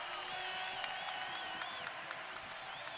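A basketball crowd at Dahlberg Arena in a Montana Grizzlies game against Northern Colorado roars and applauds steadily, distant and diffuse, with a few sharper claps and shouts rising out of the wash.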